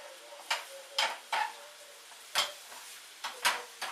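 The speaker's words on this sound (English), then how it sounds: "Now if you can hear that, that is sizzling." Vegetables in oil in a pan, with a faint steady sizzle beneath a series of sharp scraping clinks from stirring, about eight irregular strokes, quiet and close.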